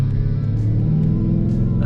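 A Jaguar S-Type R with a 400 hp engine rumbling and revving while driving, heard from inside the car as a loud, steady low growl for a couple of seconds without talk.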